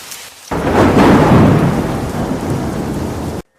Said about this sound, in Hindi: तभी बारिश शुरू हो गई।